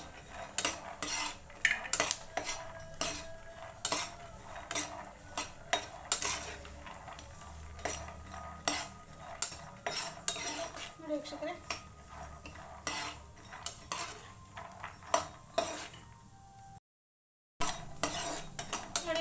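Peanuts fry in oil in a pan for street-style mandakki masala with garlic, giving a steady crackle under repeated sharp metal scrapes and clatter of a stirring spoon, close and fairly loud, with a brief dropout near the end.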